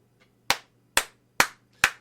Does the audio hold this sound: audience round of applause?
yes